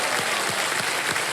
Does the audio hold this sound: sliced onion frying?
no